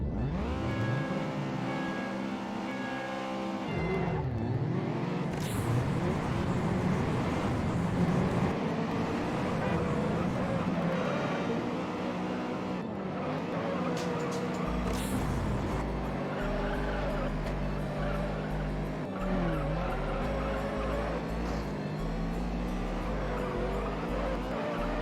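A Honda CRX race car driven in the video game Juiced, its engine droning steadily and loud, revving up and down with gear changes and brief tire squeal over a continuous game soundtrack.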